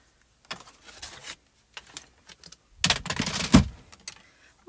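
A paper piece trimmed to size for card making, giving a few short, dry slicing and scraping bursts with quiet gaps between, the longest and loudest pass near the end, no talking.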